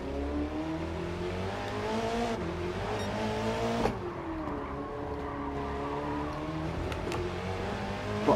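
A 1917 Living Legend car races in Gran Turismo 7, its engine droning loudly and continuously with rising and falling revs through gear changes, heard alone without talk.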